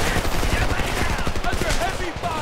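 Enemy gunfire in the war shooter Homefront, rapid overlapping bursts of automatic shots packed tightly together, loud and continuous across the short stretch, with a voice mixed in.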